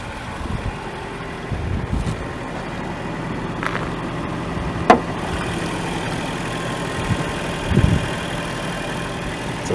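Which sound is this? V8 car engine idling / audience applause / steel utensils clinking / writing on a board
V8 car engine idling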